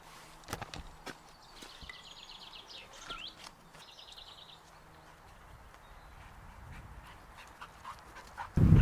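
A dog pants in short quick breaths while walking outdoors, with faint footsteps and some bird chirps in the background, followed by a loud rustle at the end.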